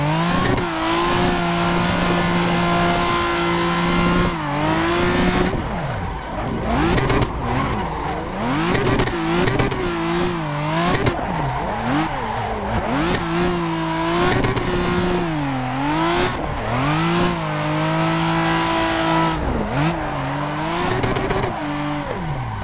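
A drifting race car in Assetto Corsa roars and revs continuously close up, its engine pitch rising and dropping with gear changes and clutch kicks, while tire squeal and skidding hiss run underneath throughout.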